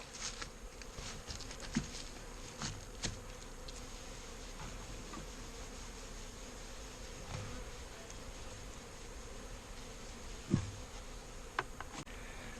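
Honey bees from a package colony buzz steadily around a German-style hive, a dense continuous drone with occasional individual bees zipping close past the microphone; no voices.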